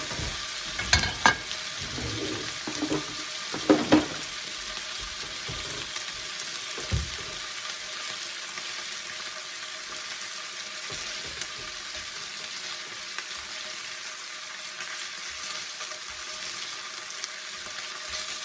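Beef sizzling and frying in a hot pan, a constant crackling hiss throughout, with a few louder clatters of stirring or turning the meat near the start.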